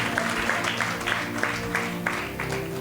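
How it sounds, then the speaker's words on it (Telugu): A church congregation claps at a pastor's urging during a Telugu sermon, with steady, dense applause that runs on for a few seconds and has several sharper bursts standing out. "కొట్ట గట్టిగా చప్పట్లు"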